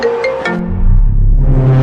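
A mobile phone ringtone plays loudly in a domestic comedy scene, a melodic tune of repeated tones that swells and continues without speech.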